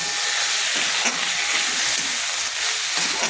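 Ground khosla paste fries in a pan with a steady, loud hiss and sizzle, close up and with no voices over it.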